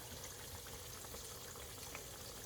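Steady sizzling of pork chops frying in a hot pan, a continuous crackling hiss with no voices.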